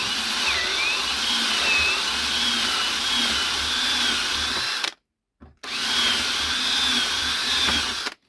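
A power drill whines steadily at close range while repairing failed threads on a Preston Innovations fishing rig station, stopping briefly once before running again at full speed.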